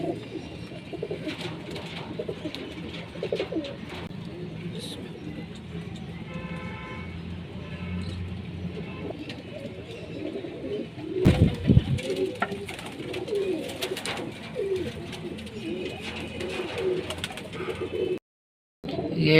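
Pigeons coo repeatedly in soft, low rolling calls, fairly close, over a busy outdoor background with passing traffic and an occasional horn; a brief loud burst of noise interrupts midway.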